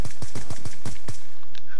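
Rapid gunfire from a weapon in Black Ops 2 sounds as seven loud, evenly spaced close shots in quick succession, followed by a brief fading tail.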